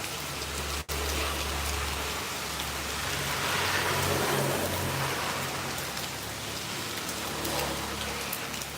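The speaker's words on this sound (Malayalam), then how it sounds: "രാവിലെ തന്നെ നല്ലൊരു മഴയാണ്" Heavy summer rain falls in the morning as a steady, dense patter on surfaces. It stays constant throughout, without voices.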